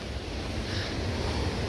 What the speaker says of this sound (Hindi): और अभी तो पानी भी ठीक उफान पे है